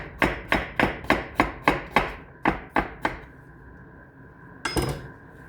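A knife chops cucumber on a cutting board: eleven crisp, evenly spaced knocks in a quick steady rhythm, close and loud, then a pause and one last scraping clatter.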